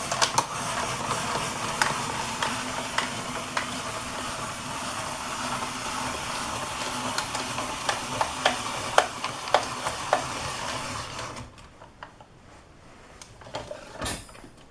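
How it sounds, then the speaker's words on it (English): Vegetables being spiralized on a Brieftons BR02 spiralizer, giving a steady scraping, crunching churn with scattered sharp clicks and snaps, fairly close and continuous before dropping away near the end to quieter, sparse handling sounds. "you're going to see me spiralize several vegetables"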